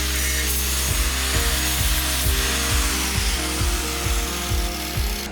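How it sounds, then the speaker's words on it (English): An angle grinder smooths down a welded steel mount and flat bar, giving a loud, continuous high whine with a steady droning hum and regular dips in pitch as the disc is pressed against the metal. "Then I smoothed everything up with the angle grinder."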